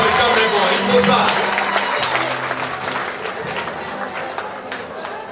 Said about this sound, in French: Mais tout d'abord, il faut l'applaudir